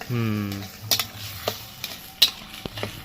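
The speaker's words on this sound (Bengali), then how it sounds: "পেঁয়াজ বাটাটা না খুব ভালো করে ভাজতে হবে" Onion paste and tomatoes fry in a pan with a soft sizzle, broken by sharp clinks and scrapes of a spoon stirring against the metal; a brief voice is heard at the start.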